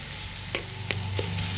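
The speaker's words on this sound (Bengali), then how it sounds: "আবারও ভালো করে কষিয়ে নেব এর সঙ্গে দিয়ে দেব আমি মগজদানা আর ওই যে পোস্ত কাজু বাদাম বাটাটা" Spice paste of poppy seed, cashew and melon seed being stirred and fried in a pan for a cauliflower roast, with a steady low sizzle broken by three sharp scrape-like stirring strokes; no one talks.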